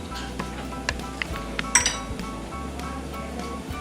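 A thin batter is whisked in a bowl for street-style chicken Schezwan rice, giving light, uneven clinks and taps of a utensil against the bowl, close and fairly quiet.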